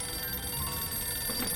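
Telephone ringing in Sam & Max Save the World, a brief steady electronic ring buzzing continuously over a noisy background.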